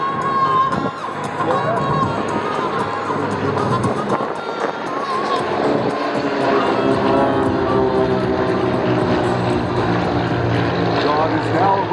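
Beechcraft T-34 Mentor propeller trainers pass overhead at an airshow, a loud continuous drone with buzzing harmonics that stays strong throughout while a crowd murmurs faintly beneath.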